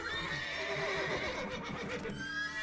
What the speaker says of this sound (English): Calm all the horses before they wake the guards.